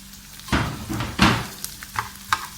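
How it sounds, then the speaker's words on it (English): Yam and mixed vegetables sautéing in two tablespoons of vegetable oil over medium-low heat for a yam frittata, with soft bursts of sizzle as they are stirred and tossed in the pan, followed by a few light scraping clicks, close and moderately quiet. "I'm going to saute the veggies"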